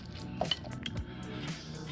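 Lump crab meat being stirred and broken up into a crab dip in a bowl, a continuous wet scraping and mixing with a few clinks of utensil against the bowl, close and moderately loud.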